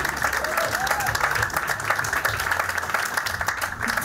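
Studio audience applause on a French television talk show, a steady dense patter of many hands clapping continuously at moderate loudness, with faint voices mixed underneath.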